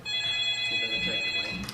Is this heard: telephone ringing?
yes